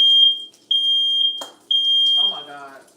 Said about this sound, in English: My alarm is always going off.